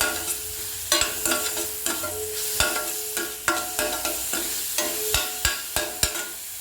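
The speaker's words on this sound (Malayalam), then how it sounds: "എന്നിട്ട് അരച്ച് വെച്ചിരിക്കുന്ന ചെറിയ ഉള്ളിയും ഇഞ്ചി വെളുത്തുള്ളി പേസ്റ്റും കൂടി ഇട്ട് നമുക്ക് പച്ചമണം പോകുന്നത് വരെ നമുക്ക് ഒന്ന് വഴറ്റിയെടുക്കണം." Ground shallots and ginger-garlic paste sautéing in a pan, a continuous sizzle broken by repeated sharp spoon knocks and scrapes against the pan at an uneven rhythm, close and fairly loud.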